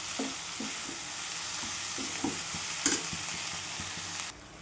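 Drumstick leaves sauté in oil for a dal-based vegetable dish, a soft constant sizzle over which a spatula taps and scrapes the pan in an irregular rhythm. The sizzle cuts off abruptly at the very end.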